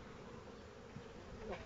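Honeybees buzzing around a Warré beehive, a continuous close droning hum with a few individual bees flying past, soft and steady with no voices.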